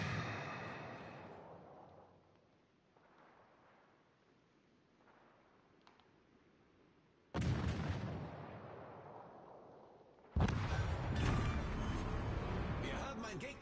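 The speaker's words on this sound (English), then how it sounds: "Sasha shooting guns" Naval battle video game gunfire: two sudden loud bursts of heavy cannon fire erupt after a quieter stretch with faint distant shots and rumble, each blast followed by sustained roaring noise.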